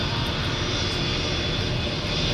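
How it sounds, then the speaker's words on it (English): A fixed-wing airplane pushing back on an airport ramp, its engines producing a steady, loud continuous roar with no voices. "airplane is pushing back"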